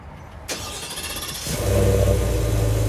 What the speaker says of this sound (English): I can do remote start on this one since it's a more higher end truck